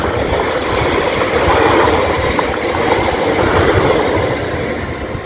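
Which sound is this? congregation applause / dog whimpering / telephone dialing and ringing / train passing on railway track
train passing on railway track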